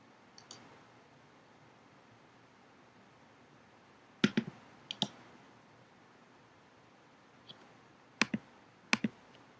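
Computer mouse clicks, a handful of sharp close clicks in small clusters against a quiet hiss, with long silent gaps between them.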